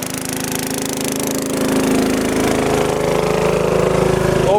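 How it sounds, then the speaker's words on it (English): The engine of a homemade brine maker runs loud and steady up close, a continuous rough mechanical drone with a rattling pulse that holds throughout. "we went ahead and shut this engine here off, and he's got this one"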